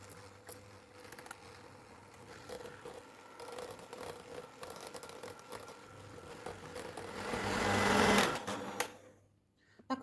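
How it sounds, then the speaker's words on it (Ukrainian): An electric mixer whips butter with boiled condensed milk into a cake cream, its motor whirring steadily, building to a louder, brighter peak near the end before cutting off abruptly into silence. "У мистерці у мене масло та згущене варене молоко, і нам його треба гарно все збити до пишності."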